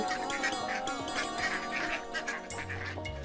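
Cartoon duck quacking by a pond, a string of nasal quacks over background music, with a lower honking call near the end.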